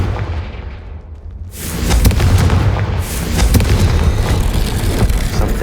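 Confringo spell explosion in the Hogwarts Legacy video game: a quieter rumbling lead-in, then a loud burst of booms and crackling blasts that keep rolling with repeated impacts through the rest of the clip.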